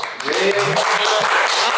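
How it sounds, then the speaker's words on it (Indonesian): Audience applause at an Indonesian talk show, a dense burst of clapping filling the short moment, with some voices mixed in. "Kasih tepuk tangan dulu dong"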